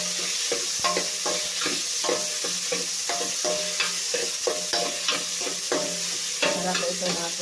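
Onion frying in a pan where garlic has already browned, with steady sizzling broken by frequent stirring scrapes and clatters, close and continuous, no voices.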